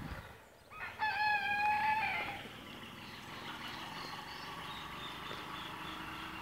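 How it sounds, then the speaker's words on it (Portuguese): A rooster gives one clear crow among free-range chickens, including a short-beaked Índia hen, followed by quieter clucking and farmyard ambience. "A galinha índia do bico curto."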